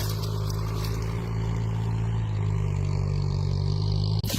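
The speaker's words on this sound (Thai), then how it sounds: "พี่น้องได้ยินเสียงรถไถไหมคะ" A farm tractor's steady, heavy engine drones throughout at close range, low and constant with a rough, rumbling texture, no voices.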